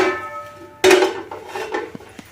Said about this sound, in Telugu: ముందుగా స్టవ్ వెలిగించుకొని ఒక గిన్నె పెట్టుకుందాం